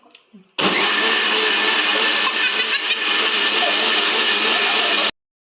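A blender mixing an apple and banana shake roars loudly and steadily at close range for about four and a half seconds, then stops abruptly, with brief faint sounds before it starts.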